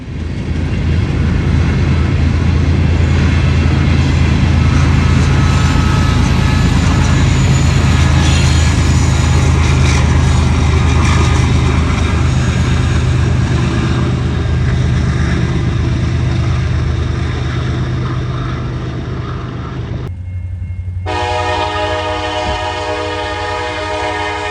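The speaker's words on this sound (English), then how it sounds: "On another cold and rainy night, NS train 179 struggles and screams to get uphill out of London." Norfolk Southern train 179, pushed from the rear by an ES44DC Gevo, labors uphill on wet rails on a cold, rainy night out of London, a loud continuous engine roar and rumble, with a sustained multi-tone horn blast near the end.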